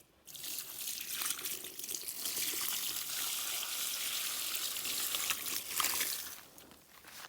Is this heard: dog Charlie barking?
no